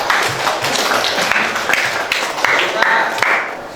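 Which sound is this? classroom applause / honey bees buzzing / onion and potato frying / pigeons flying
classroom applause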